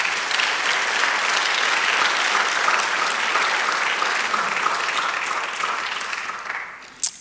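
A church congregation applauding, a loud, dense, sustained burst of clapping from many hands that fades slightly toward the end, with no clear speech over it.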